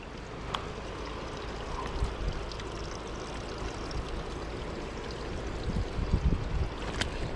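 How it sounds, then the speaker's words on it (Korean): A stream flows and gurgles steadily nearby at night, a continuous rushing wash with occasional splashes, heard alone without talking. "와 물소리 저 흐르는 거봐"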